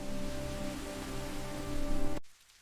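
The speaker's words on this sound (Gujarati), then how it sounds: "આકાશમાં વાદળો બને છે અને પછી વરસાદ પડે છે." Steady rain pours down in a dense, even wash of noise that stops abruptly near the end.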